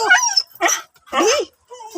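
A dog nearby, reacting to another dog, gives four short, sharp barks and yips in quick succession, with a whimpering edge.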